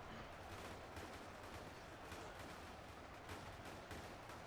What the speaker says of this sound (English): A couple are firing at the tank.